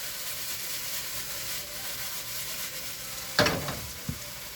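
Fried rice cooking in an oiled pan, a steady sizzle with a couple of sharp scraping stirs near the end.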